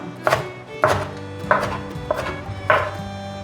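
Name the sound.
knife mincing red bell pepper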